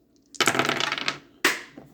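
Dice clatter onto a surface in a tabletop Strat-O-Matic baseball game, two distinct bursts of rattling and tumbling, the first longer and busier, the second short, close and fairly loud with no talk over them.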